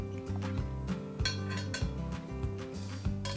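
Metal egg rings set into a hot pan while cooking eggless eggs benedict, giving a run of light clinks and knocks over a low, steady kitchen hum.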